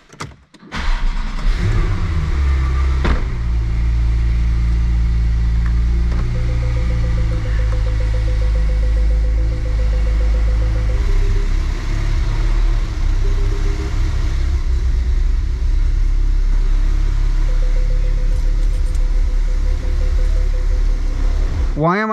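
Porsche Turbo S driving with a steady deep engine rumble inside the cabin, plus a faint motorized whine partway through, continuous and loud from start to end.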